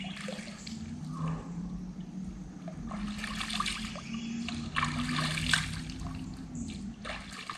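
Swamp water sloshes and splashes steadily as someone wades through it, with bursts of churning and trickling, close by and continuous.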